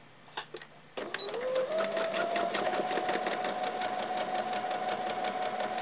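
A sewing machine stitches nylon doll leggings, starting after a few clicks and then running as a steady, close, rapid whir with a rising motor hum.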